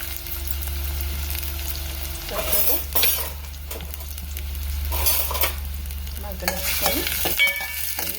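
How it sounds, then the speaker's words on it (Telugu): Onions and green chillies sautéing in a pan, a constant low sizzle with repeated scraping and clinking as a spoon stirs them, heard up close, with faint talking now and then. "ఉల్లిపాయలు వేసుకుని పచ్చిరొగలు కూడా వేసేసుకుందాం మంచిగా మగ్గన ఇచ్చేసుకుందాం"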